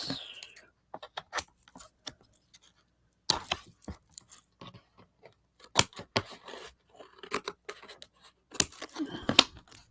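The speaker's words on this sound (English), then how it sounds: "Big scissors." Big scissors snip through paper for a mixed media art journal collage, giving a series of short, sharp close cuts in irregular bursts separated by brief pauses.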